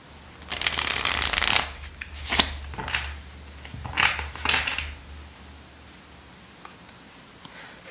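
Tarot cards shuffled nearby in a few bursts of papery riffling and flicking, loudest at the start, then tapering into quieter handling and near silence.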